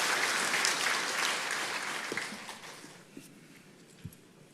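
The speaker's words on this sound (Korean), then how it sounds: "다시 한번 박수하겠습니다." A congregation at a Korean Sunday worship service applauds, a sustained wash of many hands clapping that gradually thins and softens, with a few louder individual claps standing out near the end.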